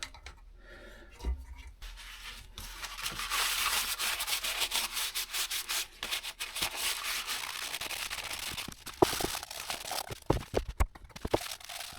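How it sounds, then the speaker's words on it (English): Scrubbing and rubbing with a solvent to degrease the surface of a GasGas ES700 motorcycle, a steady, close, gritty swishing that fills most of the stretch, ending in a few sharp knocks and scrapes. "Now we're gonna degrease the surface and clean it a little bit with a nitrous solvent"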